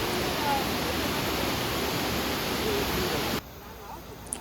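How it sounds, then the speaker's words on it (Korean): The waterfall at Bidulginang Falls in the Hantan River geopark roars as a dense, constant rush of water, loud and steady, dropping slightly in level near the end. "예쁜 비둘기낭 폭포를 보러 왔습니다"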